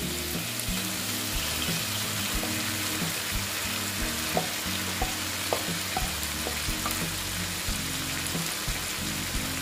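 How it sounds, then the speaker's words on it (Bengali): Fried soybeans sautéing in a pan, a steady close crackling sizzle with scattered stirring scrapes and clicks throughout, no voices. "দিয়ে এটার সঙ্গে আমি ভালো মতন কষিয়ে নিচ্ছি।"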